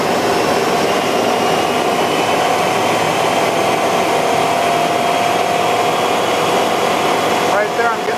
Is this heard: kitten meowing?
no